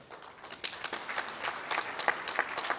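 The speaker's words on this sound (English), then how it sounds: "a round of applause for His Excellency" Scattered applause at a Pakistan Pharmaceutical Association award ceremony, individual claps clearly audible as sharp irregular bursts from a modest crowd, fairly close and moderately loud.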